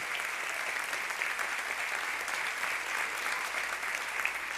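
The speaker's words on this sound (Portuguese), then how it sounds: "Se você crê, aplauda ao Senhor." A church congregation applauds during a celebration service, steady dense clapping throughout, moderately distant and even, with no pauses.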